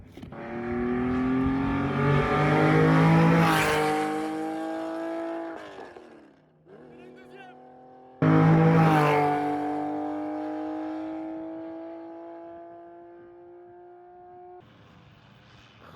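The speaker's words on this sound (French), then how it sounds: "il y a deux Porsche de course là" Two Porsche race cars sweep past one after another at a mountain event in Andermatt, each engine note swelling loud and rising in pitch as it nears, then fading as it pulls away.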